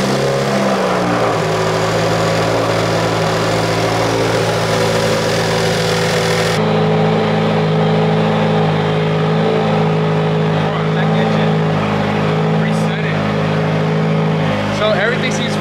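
A Subaru WRX being prepped for E85 fuel cranks and starts, then settles into a loud, steady idle with a low droning hum held close by, and people talk over it.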